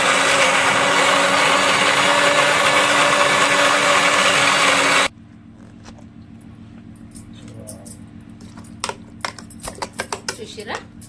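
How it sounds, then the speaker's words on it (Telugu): A mixer grinder grinds curry masala smooth for rajma chhole curry, giving a loud, steady whirring roar for about five seconds before cutting off abruptly, followed by quiet kitchen clicks and taps. "ఇట్లా మిక్సీ పట్టేసుకోవాలి మెత్తగా"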